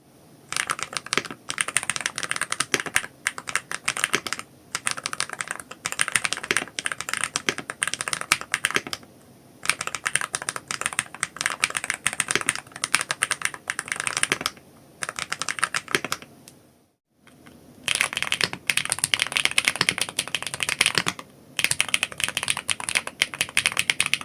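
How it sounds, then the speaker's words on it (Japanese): Fast, continuous typing on a mechanical keyboard with Jade Delta HE magnetic switches, producing a crisp, high-pitched clacky keystroke sound up close, with brief pauses and one short silent gap. "コツコツとした高めの打鍵音がとても気持ちよく、気づいたらジェイドデルタが乗っているキーボードを触っているなんてこともあるくらいです。"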